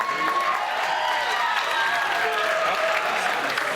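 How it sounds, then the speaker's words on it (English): A school audience at a writers' week event claps in a dense, continuous wash of applause that stays steady throughout. "You can clap"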